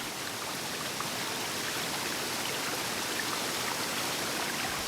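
Forest waterfall in Burundi's Kibira forest, a steady, dense rush of falling water that roars evenly throughout without pause, close and full, with no voices present.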